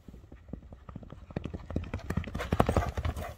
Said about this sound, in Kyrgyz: Чуркашы аябай зор ат экен.